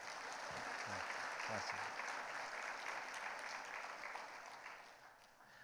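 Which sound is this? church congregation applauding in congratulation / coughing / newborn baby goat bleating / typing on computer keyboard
church congregation applauding in congratulation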